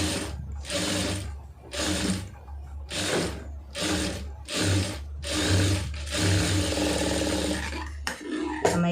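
A sewing machine stitches a lined blouse in quick rhythmic bursts, its needle mechanism whirring in repeated runs over a steady low motor hum.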